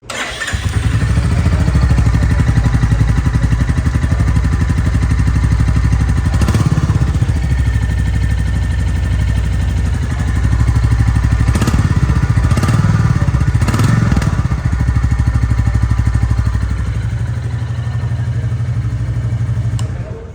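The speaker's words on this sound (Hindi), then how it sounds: "मैं आपको इस बाइक का साउंड सुना देता हूँ कैसा है" A Royal Enfield Bullet 350 motorcycle idles steadily with its single-cylinder engine, a loud, close, deep rhythmic thump that holds for about twenty seconds, with a few brief revs, and no talking.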